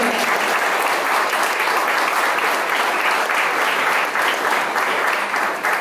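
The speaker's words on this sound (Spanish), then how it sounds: "Den un fuerte aplauso al Señor" Congregation applauding the Lord during a church worship service in El Carmen de Viboral, a loud, dense, continuous clapping that runs evenly for about six seconds.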